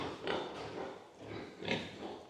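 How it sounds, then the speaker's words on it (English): Large pigs on a farm in Congo Kinshasa grunt in low, rough bursts, two or three close snorts over steady pen noise. "Whoa, these pigs are humongous, yeah?"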